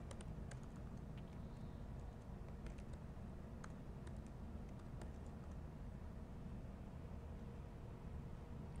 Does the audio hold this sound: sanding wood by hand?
no